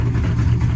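Close, loud low-pitched engine drone from an FML 250 with a fuel problem, running rough and uneven with a slightly wavering, stumbling pulse over a brief moment.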